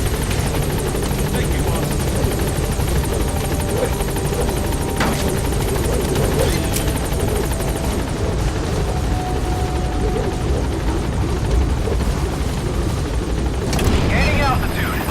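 The Pequod helicopter in Metal Gear Solid 5 hovers at a landing zone, its loud steady rotor and engine roar filling the scene, with a voice speaking briefly over it.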